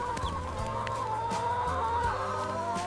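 A flock of hill chickens clucks steadily at feeding time, several birds overlapping in a busy, continuous chatter with occasional louder calls, close by and with no one talking.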